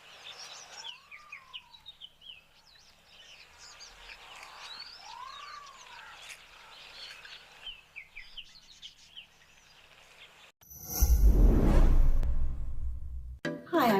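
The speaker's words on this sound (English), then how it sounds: "Listen to the bird life that is around as well." Wild birds call and chirp outdoors in repeated short whistles and tweets, a natural dawn-chorus scene, before a louder burst of handling or wind noise cuts in near the end.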